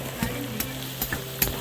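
Flour is stirred into a prawn filling sizzling in a pan, with a steady fry hiss and a few soft spoon scrapes and taps across a short moment, no voices.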